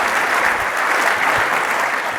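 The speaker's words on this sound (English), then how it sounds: "how about a round of applause for Carol Van Andel" An audience at a 2023 civic luncheon in Grand Rapids gives a round of applause for Carol Van Andel, a thick, sustained wash of many hands clapping at steady volume throughout.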